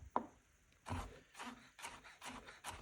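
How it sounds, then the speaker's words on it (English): A knife slices and cross-cuts orange zest on a cutting board, making a handful of soft, irregular chopping taps up close, each a short broadband thud with a little scrape, spaced unevenly across a few seconds. "first cutting very, very, very fine julienne from your zest, and then cross-cutting it into very, very small pieces"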